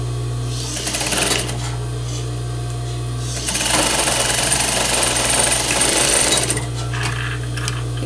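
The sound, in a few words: sewing machine stitching a simple seam on fraying fabric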